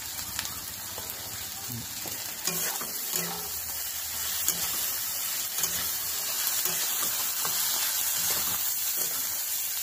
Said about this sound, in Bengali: পরে এবার টমেটোটা দেবো।